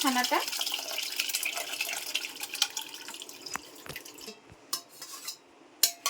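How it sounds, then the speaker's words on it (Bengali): Whey is being strained out of fresh chhena through a clean cloth. Liquid pours and trickles steadily at first, then thins to scattered drips and a few soft clinks of a vessel nearby. "ছানা থেকে আমি জলটা পুরো ছেঁকে নেব।"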